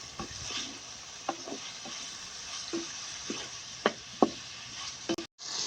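Onions and tomatoes fry with spices in a pan while a spoon scrapes and stirs them, over a steady soft sizzle. Clicks and knocks from the utensil come now and then against the close, continuous hiss.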